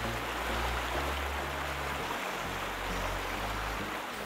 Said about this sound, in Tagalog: tambay muna rito sa man-made waterfalls at uh, damhin ang lagaslas ng tubig.